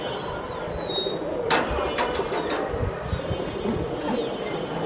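A pair of Giribaz pigeons coo softly and fairly close, with a few faint chirps over a rough, noisy background.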